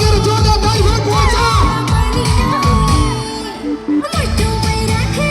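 A crowd at a gathering cheers and whoops loudly over rhythmic music, a dense wash of voices that dips briefly near the end before swelling again.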